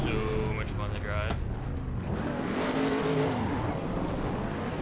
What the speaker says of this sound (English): This car is so much fun to drive.